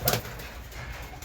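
Pigeons in a loft holding resting breeding pairs, giving soft, low cooing with a brief fluttery burst at the start over a steady room hum.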